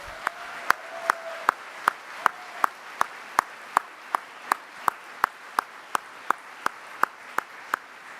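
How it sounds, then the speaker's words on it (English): A quick round of applause for a speaker at a church general assembly, heard as a faint background patter of many hands under evenly spaced, sharp, loud close claps that keep a steady beat. "one more quick round of applause for our theme speaker, Karen Georgia Thompson."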